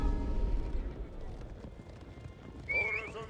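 Hooves clatter in a fast galloping rush from a video game cavalry of horse archers, steady and fairly loud at first, then fading before a sharp horse whinny rises near the end.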